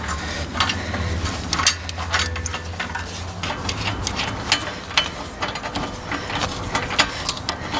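Ratcheting clicks and metallic mechanical rubbing come from bolts being tightened down on a Bobcat CT2035 compact tractor, repeated steadily at close range with no talking.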